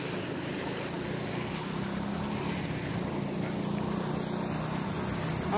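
Running water from a fountain in a lagoon at a bird park in Arthur Nogueira, São Paulo, makes a continuous, soft wash of splashing, fairly distant and steady from start to finish.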